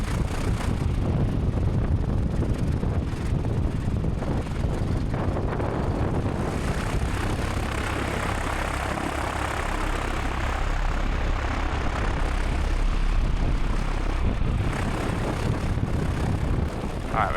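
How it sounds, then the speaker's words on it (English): An RV-14A airplane's engine runs up before departure, a loud, sustained propeller drone close by, rising in intensity midway, with wind buffeting the microphone throughout. "Alright, we're gonna do a quick run up over here."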